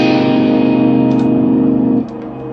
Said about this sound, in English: So that's an infinite tail.